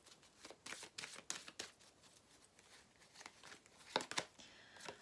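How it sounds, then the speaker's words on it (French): Tarot cards are shuffled and drawn in soft, quiet bursts of riffling and sliding, with a few sharper flicks near the end. "Ensuite, on va prendre une carte bonus."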